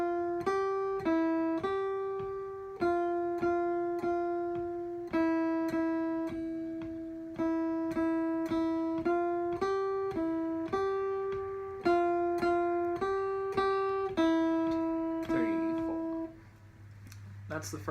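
Single guitar playing the first string etude from the Mel Bay Modern Guitar Method Grade One, a slow, even melody of sustained plucked notes on the high string, close and clear, ending with a brief fade and low hum.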